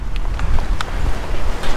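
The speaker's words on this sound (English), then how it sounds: "It's windy," Wind buffeting the microphone outdoors on a cold, blustery day, a constant low rumbling roar with occasional faint clicks and rustles, no voices.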